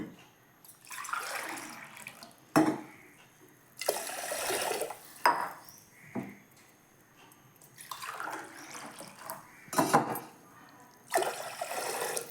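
Water is poured from a tumbler over washed rice in a pressure cooker, arriving in several separate splashing bursts with quiet gaps between them, close by.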